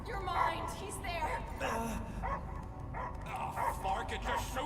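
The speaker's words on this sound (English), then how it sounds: "I hear only barking." In the video game Guardians of the Galaxy, a dog barks and yips repeatedly in short bursts while characters talk over it, the barking close and prominent against a low rumbling backdrop.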